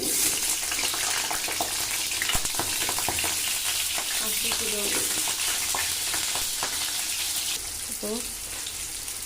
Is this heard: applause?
no